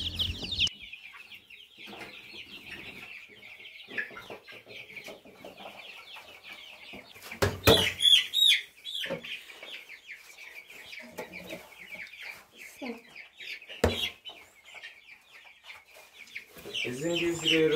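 A crowd of newly arrived chicks peeps continuously in high, overlapping chirps, with a couple of brief louder flurries partway through.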